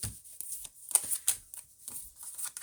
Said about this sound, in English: let's go ahead and shuffle this shit